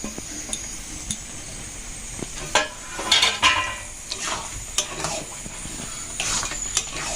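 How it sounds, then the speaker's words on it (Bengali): Carrot halwa made in a pressure cooker being stirred in a pot with chopped cashews, raisins and pistachios, soft scraping and sizzle broken by irregular metallic clinks of the spoon against the pot. "ওটা ভালো করে একটু মিশিয়ে নিলাম"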